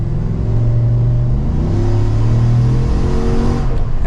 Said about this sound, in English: we have to give it one more acceleration here before we give this back, just to hear that sound